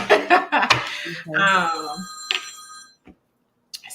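A mobile phone rings with a bright, steady electronic tone partway through, following close speech and ending in near silence.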